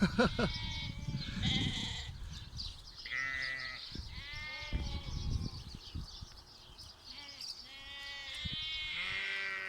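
A flock of Zwartbles sheep with their lambs bleats repeatedly up close, overlapping calls in high lamb voices and deeper ewe voices, with shuffling movement between them and no talk.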